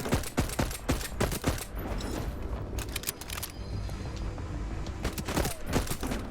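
Rapid, loud gunfire in the video game Voidtrain as a locomotive is shot at, dense volleys and overlapping bursts of shots crackling throughout with no talking.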